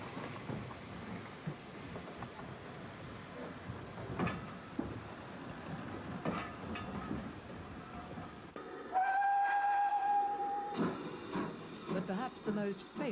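Preserved K4 class steam locomotive The Great Marquis, sole survivor of Gresley's K4 class, with steady hissing steam and rail noise at a distance, followed by a sustained steam whistle blast, under faint background sound.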